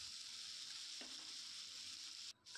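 Soybean chunks and potatoes frying with salt and turmeric over a low flame give a steady, even sizzle throughout, with a brief clink partway through and a short dip near the end.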